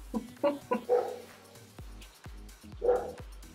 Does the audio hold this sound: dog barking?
yes